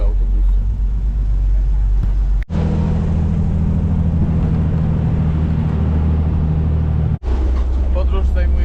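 A bus in Thailand, with its doors open, rumbles loudly with constant road noise pouring in, a deep droning ride interrupted by two brief dropouts.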